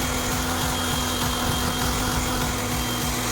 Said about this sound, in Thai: อ๋อเสียงเครื่องขัดก็จะดังนิดนึงนะคะ